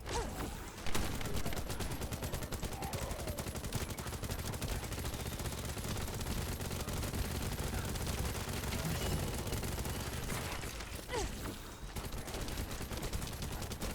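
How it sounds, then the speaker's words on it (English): Rapid, sustained gunfire from shooting at enemies in the video game The First Descendant, with dense automatic bursts and crackling ricochet impacts rattling on continuously at moderate level with no pauses. "Always just aim for the nearest elite and start shooting"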